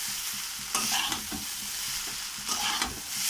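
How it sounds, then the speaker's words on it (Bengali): Chow mein noodles with capsicum being stir-fried in a pan, giving a constant loud sizzle overlaid with a few scraping stirs of the spatula, close up and with no voices. "ভালো করে নেড়ে নেড়ে ভেজে নেব চাউমিনগুলোকে।"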